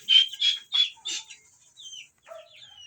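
Several short clucking bursts from turkeys in quick succession, fairly close, followed by quieter chirpy calls fading out.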